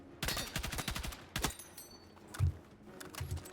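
Gun firing in Battlefield 6, a fast burst of close, loud hip-fire shots followed by a pause and a few more single shots.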